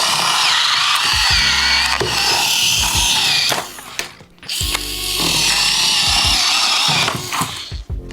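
A Ryobi USB lithium power cutter, model FVC51K, slices through cardboard and plastic packaging in two loud buzzing runs of a few seconds each, separated by a short lull, with ratcheting clicks and rustling between cuts.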